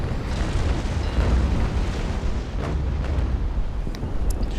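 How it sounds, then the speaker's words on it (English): A broadside of ship cannons fires in Naval Action aboard the Bellona, a dense, continuous rumble of heavy booms that blend into one sustained roar. "might as well empty my guns"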